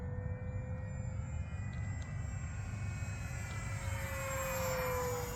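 FMS 1500mm Cessna 182 RC model plane in flight, a continuous electric motor drone with a thin steady whine above a windy low rumble, holding level and slightly swelling toward the end.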